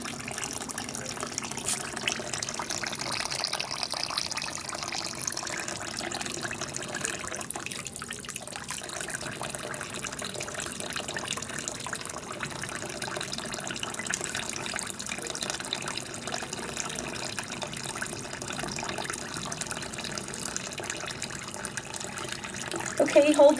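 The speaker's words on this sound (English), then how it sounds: "I'm going to put some water in the denture cup" Tap water runs steadily into a denture cup at a sink in a care setting, a continuous faint pouring wash lasting throughout, with a brief louder clatter at the end.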